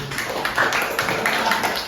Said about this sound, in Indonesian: tepuk tangan dah untuk kita semua